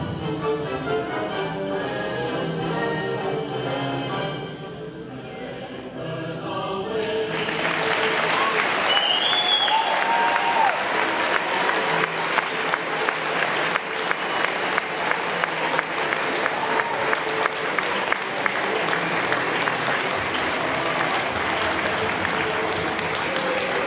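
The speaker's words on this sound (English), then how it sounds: "let's clap for them, please." Elementary school students and audience applaud military veterans at a salute ceremony; after quieter crowd murmur, dense clapping swells and continues steadily, near and lively, with crowd voices mixed in.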